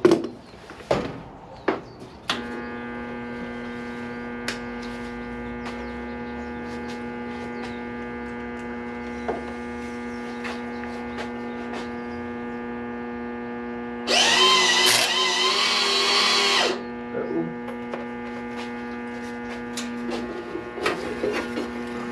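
A welder burns metal while a rat rod Harley Sportster rear brake lever is built. One loud crackling burst of about three seconds rises over a steady electrical hum, with scattered light clicks before and after.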